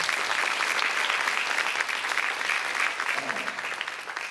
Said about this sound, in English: Would you guys give them one more round of applause?